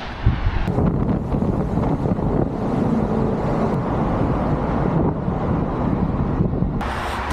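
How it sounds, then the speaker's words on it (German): Constant headwind rumbles against the microphone while cycling uphill in the Basque Country, a steady, close, low buffeting roar with no voices. "Dieser Gegenwind macht einen echt fertig."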